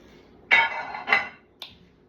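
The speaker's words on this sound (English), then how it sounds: "So I got this pan right here, my handy pan, my handy dandy pan." A metal pan is handled in a kitchen, giving two bright clanks about half a second apart followed by a lighter tap, close and clear with no talk.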